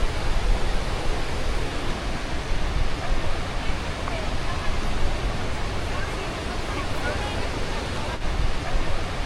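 Bridalveil Fall in Yosemite, California, fed by snowmelt, roars as a steady, dense rush of falling water with wind buffeting the microphone throughout.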